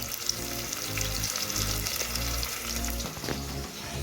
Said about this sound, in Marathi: पावभाजी केली पाव गरम करतो